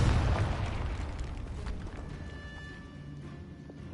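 A Confringo fire spell bursts in Hogwarts Legacy, a loud crackling blast at the start that decays into a rumbling, fizzing tail with faint game sounds afterward.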